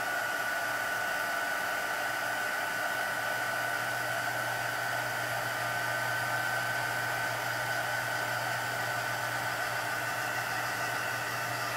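A heat tool blows steadily while heat-setting stamped ink, a constant whooshing fan and heater hum that holds unchanged for about twelve seconds, fairly close and alone.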